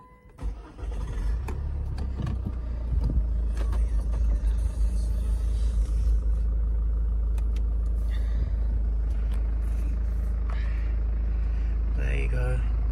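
A 2009 Ford Mondeo 2.2 TDCi diesel in Titanium X Sport trim starts by push button and settles into a steady, low, rumbling idle, heard close up and continuous after a brief start.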